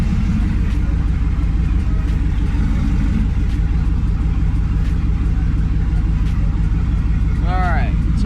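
A car engine idles steadily at close range after finally starting, a continuous low rumble with an even pulse, while a brief whistle-like tone rises near the end.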